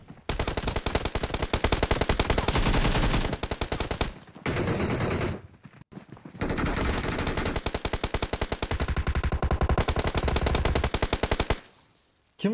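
Rapid automatic gunfire from a multiplayer shooter game, long loud bursts of machine-gun fire broken by short pauses, close and dense throughout.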